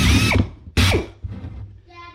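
A power drill whirs in short bursts, its pitch sliding as the bit grinds and scrapes the walls of holes in a 2007 Hyundai Sonata's front brake parts, then winds down to a fading whine.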